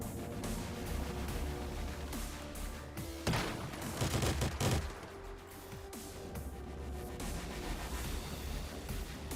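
Machine gun fire in the video game Once Human: dense, rapid bursts of shots rattle almost continuously, with a heavier, louder cluster in the middle and a steady game ambience underneath.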